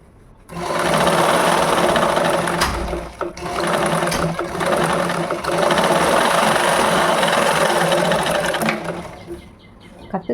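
A sewing machine runs almost without a break as it stitches a ladies' blouse, a loud, close mechanical whirr with brief slowdowns and a stop near the end.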